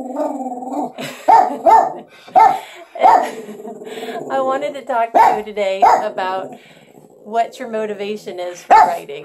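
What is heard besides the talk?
border terriers barking and growling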